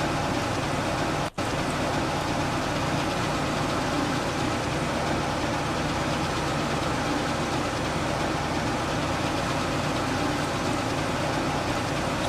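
A Claas Dominator 88S harvester engine in Farming Simulator 15 drones steadily and loudly, a continuous low mechanical rumble with a single brief dropout near the start and no talking.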